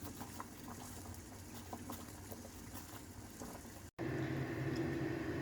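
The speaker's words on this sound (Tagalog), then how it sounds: "O ito, kumukulo na ang tubig." Water boiling in a pot for cooking mung beans, a steady bubbling, rolling simmer heard close and alone, with a brief cut partway through before the boil carries on.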